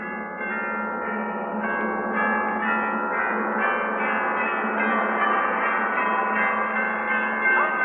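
Many bells clang and peal together in a dense, sustained wash, steady and loud throughout, with no one speaking, as an effect in a 1938 radio drama.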